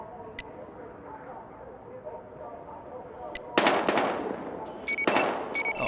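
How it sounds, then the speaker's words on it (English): Gunfire in the video game Battlefield Hardline comes as a few sharp shots, then dense bursts of loud, close cracks that overlap with game sound and background noise. "We've got gunshots."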